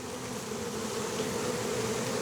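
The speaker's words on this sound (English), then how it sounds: "Oh, but there's bees in here." Bees buzz in a steady, continuous drone inside an opened hive that has come apart, close and moderately quiet with no talking.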